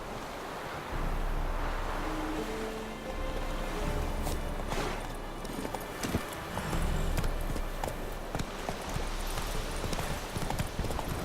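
Roach the horse gallops in The Witcher 3, with steady hoofbeats running under wind and ambient outdoor noise from about the first second onward.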